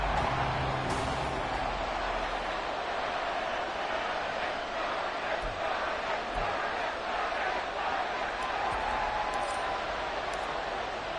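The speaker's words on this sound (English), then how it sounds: "A good crowd on hand and seemingly ready to go in the Motor City." A stadium crowd at Ford Field in Detroit, from the Madden NFL 24 football video game, roars in a steady, dense wash of cheering and murmur that persists throughout, with no clear voice standing out.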